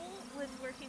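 A honeybee swarm being relocated by hand, giving a faint, continuous buzzing with a few close wingbeat whines passing near, and no talk.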